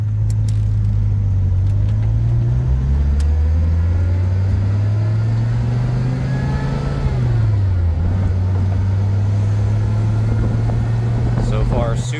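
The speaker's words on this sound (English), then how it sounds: "All right, we're going on a quick test drive here." A 1995 Dodge Viper RT/10 on a road drive gives a steady, loud low engine drone with rising and falling pitch as it accelerates and shifts, heard up close from inside throughout.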